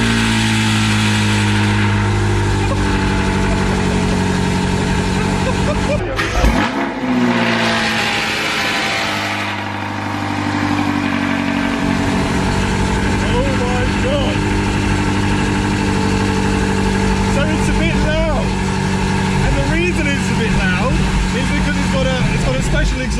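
BMW M8 Competition V8 revving loudly up close, with deep harmonic engine tones rising and falling over about twenty seconds, a brief dip midway, and a person talking over the engine.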